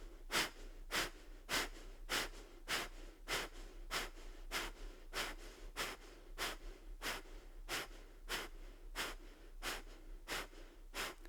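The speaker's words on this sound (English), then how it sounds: "Breath of fire. So a snappy exhale sounds like this." Rapid rhythmic breath of fire yoga breathing, a steady train of sharp, snappy nasal exhales about two per second, close and clear with no talking.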